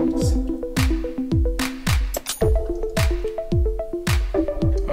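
Meatballs and broth ladled into a bowl of albondigas soup with lentils and rice, giving a run of close, wet drips, plops and sloshes that repeat in short bursts with clinking against the bowl.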